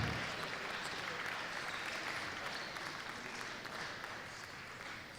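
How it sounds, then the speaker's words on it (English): Audience at a high school sports medal ceremony applauding silver medalists, a dense, fairly distant wash of clapping that holds steady and fades slightly toward the end, with some crowd noise mixed in. "another round of applause for silver medalist St. Benedict Saints"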